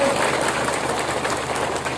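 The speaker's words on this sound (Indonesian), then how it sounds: "Tepuk tangan dulu dong buat panitianya" Steady clapping from an audience at a religious sermon gathering in Tambaksari, Indonesia, applauding the event organizers, continuous and fairly loud throughout.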